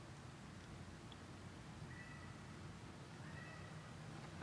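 A pet cat meows faintly in a hallway, a few thin cries sounding distant and soft over a steady background hiss.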